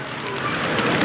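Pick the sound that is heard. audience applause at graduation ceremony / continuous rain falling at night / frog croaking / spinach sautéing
continuous rain falling at night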